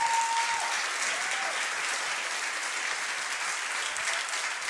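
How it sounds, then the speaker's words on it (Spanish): Church congregation at a sermon breaking into loud, sustained applause that fills the room evenly from start to finish, with a faint tonal note at the very beginning. "Eso es, fuerte, fuerte ese aplauso."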